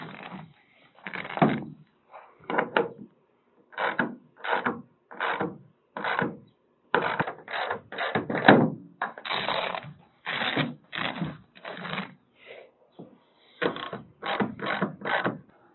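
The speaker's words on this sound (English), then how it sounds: "and tighten down those clamps." The clamps of a TruXus bed cover are tightened on a 1987 Jeep J-20 pickup, producing a series of close, quick ratcheting and clicking bursts in an uneven rhythm with short pauses between them.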